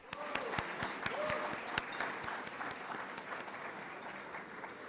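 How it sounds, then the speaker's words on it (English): Audience applause at a breakfast plenary session, broad sustained clapping from a seated crowd with a voice briefly audible over it. "Let's give them a round of applause."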